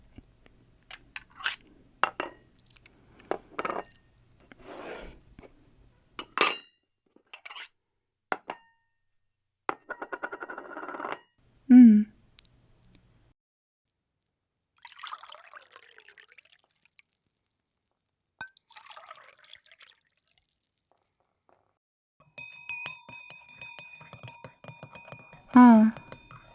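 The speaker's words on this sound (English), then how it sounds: "Would you like a glass of tea? It's green tea with a bit of sugar in it." Green tea with sugar is poured into a glass amid clinking glassware: scattered clinks and taps, a short trickling pour, and a sharp clink near the end, all close and fairly quiet, with a voice speaking at times.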